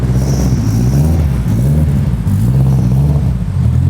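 A Honda Civic Si with a K20R engine drones loudly and steadily close by outside, a smooth low engine hum with slight rises in pitch and no speech.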